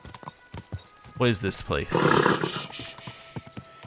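Horse hooves clip-clop in Kingdom Come: Deliverance II, a steady series of light hoof taps running through the clip beneath a man's speech.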